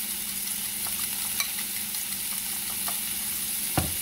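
Egg is stirred with shrimp in a frying pan, a steady sizzle with soft scraping and occasional clicks of the utensil against the pan, close and fairly quiet.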